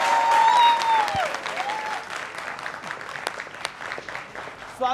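Studio audience applauding to welcome actress Rani Mukerji onto a TV interview set, a sustained burst of clapping that gradually thins out, with some voices speaking over it.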